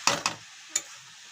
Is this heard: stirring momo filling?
yes